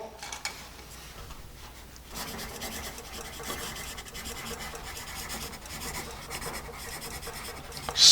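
An old vintage pencil scratches across paper in continuous rasping strokes, close and steady, with a short pause early on before the writing picks up again.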